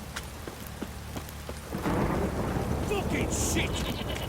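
Rain and thunder from the video game The Witcher 3: a steady rain hiss with faint rumbles at first, then a loud thunder crack near the two-second mark swelling into a heavy downpour that continues to the end.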